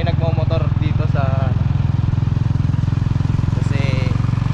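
Ride in a motorized tricycle heading toward a public market, with a steady, loud engine drone pulsing evenly throughout while voices talk over it.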